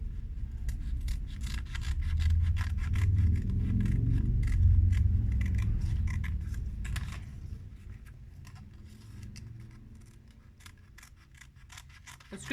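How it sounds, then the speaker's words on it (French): Scissors snip away excess material in a series of quick, close, crisp cuts over a soft low rumble, alone with no talk. "je coupe ce que j'ai en trop."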